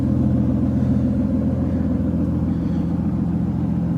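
A car engine idles with a steady low rumble, close by and even, with no one talking.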